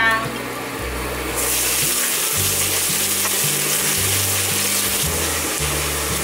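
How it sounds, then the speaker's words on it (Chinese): Minced ginger sizzles in black sesame oil in a wok, a steady hiss that swells loudly after the first moment and then holds constant, with a low hum running underneath. "锅内放入黑芝麻油，冷油把姜末煸香。"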